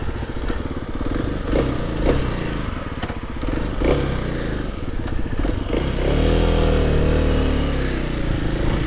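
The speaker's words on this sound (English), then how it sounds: "First pull away on the new KLX300" A new Kawasaki KLX300 dirt bike pulls away in wet weather, its engine loud and close, a steady rough thrum that rises in revs near the end, with occasional clatter and no talking.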